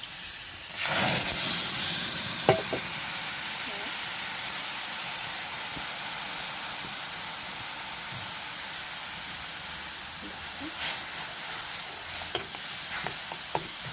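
Onions fry in a hot pan with a steady, close sizzling hiss, broken now and then by a few sharp clinks of a utensil stirring, with no voices over it.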